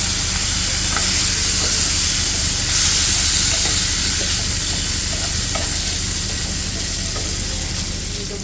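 Swordfish pieces shallow-frying in a hot pan, a loud continuous sizzle and steamy hiss with occasional scraping stirs from a spatula, no voices.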